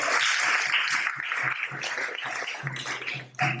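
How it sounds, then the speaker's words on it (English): Steady applause from a crowd, a dense wash of clapping that carries on for several seconds before briefly thinning near the end. "Can you give them a big round of applause?"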